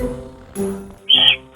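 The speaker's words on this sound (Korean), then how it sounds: "식성이 왕성할 시기라 먹이 보채는 소리도 요란합니다" Eurasian eagle-owl chicks in the nest begging for food, giving two brief, close, harsh squawks in quick succession.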